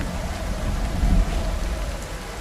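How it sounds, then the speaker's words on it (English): Heavy rain in the video game Project Zomboid pours down as a dense, continuous hiss with a low rumbling undertone, loud and steady with no other sounds. "The rain is so loud."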